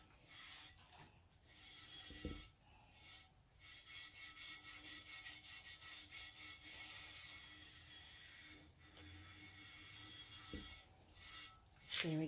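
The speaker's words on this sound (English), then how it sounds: "So for now, I just rub a little bit around there" Terracotta mosaic birdbath being coated with Laticrete Hydroban sealer, a soft steady rubbing and scraping of brush or cloth over the clay surface, continuous at close range with a few brief knocks.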